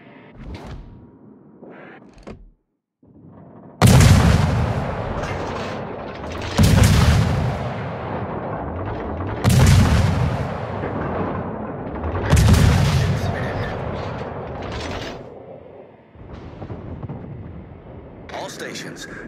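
Heavy naval gunfire from large warships in World of Warships during a Tier 10 clan battle: four big booming salvos spaced a few seconds apart, each with a long rumbling decay, over a steady background drone.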